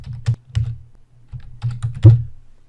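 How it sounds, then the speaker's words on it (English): Code is typed on a computer keyboard in irregular bursts of sharp, close key clicks separated by short pauses. "let me go ahead and type that in to confirm that it really does what I claim"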